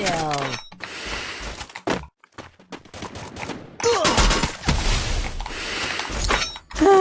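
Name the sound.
gunfire in Free Fire video game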